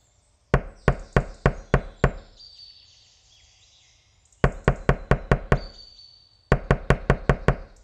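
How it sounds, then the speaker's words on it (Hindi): Knocking on a door in an animated Hindi cartoon: three sharp bursts of rapid raps, six or so knocks each, loud and close, separated by quiet pauses. "आपने दरवाजा खटखटाया"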